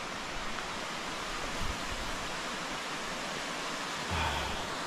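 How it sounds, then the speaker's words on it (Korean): A waterfall in Sequoia National Park roars as a continuous, broad, steady rush of water, loud and close, with no voices. "드디어. 목적지인 폭포에 왔습니다."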